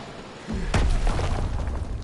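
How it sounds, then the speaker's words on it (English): A bomb detonating on a cannon in Call of Duty: WWII, a loud close blast with a sharp crack followed by a rumbling boom and lingering debris noise. "Bomb detonated!"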